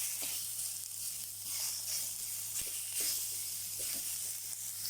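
Tomato and mixed vegetables sautéing in a pan, a bright continuous hiss of sizzling oil with a few faint clicks of stirring, steady and close, no talk.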